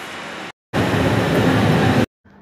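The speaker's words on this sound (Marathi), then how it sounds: "तिकडून ट्रेन येते" A train coming in at a station makes a loud, close rumbling roar in two abrupt bursts separated by silence.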